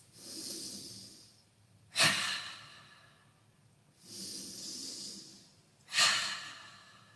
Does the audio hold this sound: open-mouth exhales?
yes